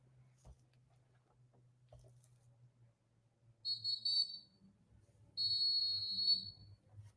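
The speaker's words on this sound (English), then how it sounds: "that whistle been great" Two sharp, shrill whistle blasts, the second longer, standing out over a low steady hum with little else around them.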